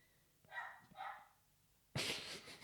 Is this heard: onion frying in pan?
no